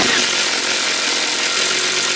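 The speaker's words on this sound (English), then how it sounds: "I'm going to now drill through the side." A Milwaukee M18 FUEL 2653-22 impact driver drives a 3/4 inch bit through the side of a workpiece, a loud, continuous, harsh buzzing hammer drone close up, with no voices.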